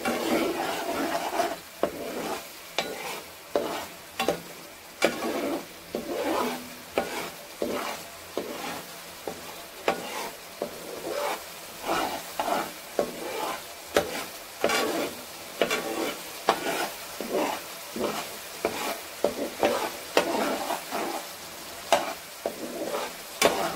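Punjabi chicken curry with tomato sauce is fried and stirred in a pan, rhythmic repeated scraping strokes over a continuous sizzle, close and steady.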